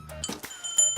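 A small bell hanging on a toy horse jingles in a few quick, bright rings with light rattling between them, close and clear, set in a Hindi comedy film scene.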